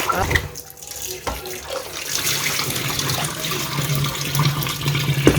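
A tap runs steadily into a sink, a constant rushing stream with a little splashing, close by and fairly loud.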